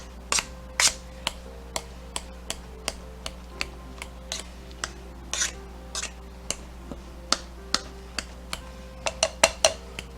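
A masher works pepper into a pot of potatoes for creamy ham and cheese mashed potatoes, giving sharp, irregular clicks and taps of metal on cookware, steady and close throughout with no talking.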